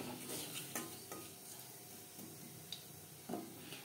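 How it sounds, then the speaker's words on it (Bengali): Black cumin seeds sizzle softly in hot oil in a wok used for frying fish, with a spatula scraping and stirring at intervals against the pan. "ফোড়নে দিয়ে দেবো সামান্য পরিমাণে কালো জিরে।"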